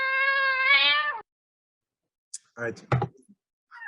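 A cat meow sound effect plays as a single drawn-out, clear harmonic cry lasting about a second, followed by silence, then someone speaking briefly.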